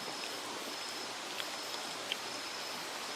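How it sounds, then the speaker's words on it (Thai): Steady rain falling at night in a mountain forest, a dense even hiss with a couple of faint drips standing out, no voices. "ฝนมาละ"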